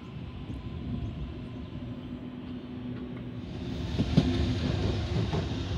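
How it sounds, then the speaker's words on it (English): A30 Central via Strathfield passenger train pulling into platform 1 at North Strathfield station, a steady low rumble with faint clickety-clack of wheels that swells slightly near the end, with no talk. "Here we have A30 Central via Strathfield service arriving at platform number 1."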